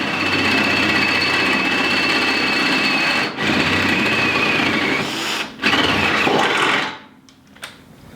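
A bent drill bit bores into the steel winch tray of an off-road bumper, making a loud, continuous, grinding whine. It breaks off briefly twice and stops near the end, leaving a quiet tail.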